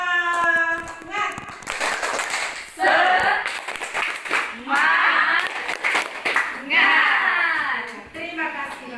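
Classroom of students doing a rhythmic group clapping chant, bursts of fast hand claps alternating with children's chanted voices, fairly loud and close throughout.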